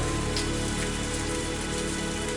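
Steady rain pours down on a roadside, a dense, even hiss of drops striking surfaces that stays constant and fairly loud throughout, with no voices.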